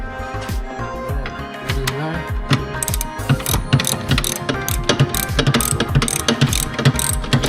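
A ratchet wrench turns a 19 mm bolt on an old boat being restored, giving steady rapid clicking strokes, close and fairly loud, with faint background noise and no talk.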